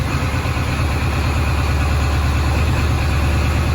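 Ford 7.3 diesel engine held at a raised 1200 RPM cold-start idle through a Hydra tuner setting, a steady, loud, close rumble with an even low throb that carries unchanged throughout.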